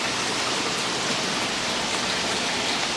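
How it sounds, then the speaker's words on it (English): Heavy rain pours steadily in a dense, continuous hiss, close and loud, with no voices. "it's raining like crazy"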